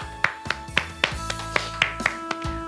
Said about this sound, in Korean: 우리 하나님께 영광의 박수 드리겠습니다.